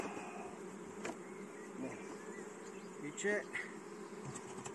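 Honeybees buzz around a new wooden beehive while a swarm is being hived, a faint steady hum with a few closer passes, and a brief spoken remark.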